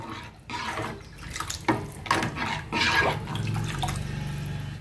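Pepper rasam with tamarind is stirred in a pot, giving close, wet sloshing and swirling liquid sounds in uneven surges over a few seconds.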